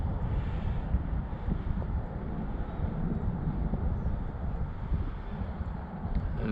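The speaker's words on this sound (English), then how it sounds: "Just gonna let the wind push me." Steady wind buffets the microphone on a fishing boat drifting over a weedy stumpfield, producing a continuous loud, low rumbling roar with no breaks.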